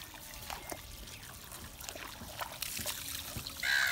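Water hosed over cleaned gummy shark fillets gives a steady trickling, splashing wash that grows slightly louder toward the end.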